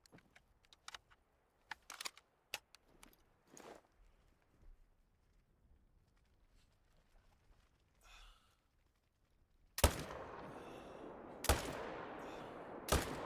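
Two loud hunting-rifle shots in the Call of the Wild video game, at about ten and eleven and a half seconds, each with a long rolling echo. They are preceded by faint clicks and rustles of reloading.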